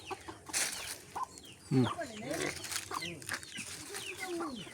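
Chickens cluck close by in short, busy bursts amid outdoor background noise.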